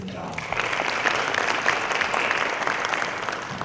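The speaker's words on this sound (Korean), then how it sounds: "6분 패널들께 큰 박수 부탁드리겠습니다." Sustained applause from a forum audience for six panelists, a dense steady patter of many hands clapping at close to medium range.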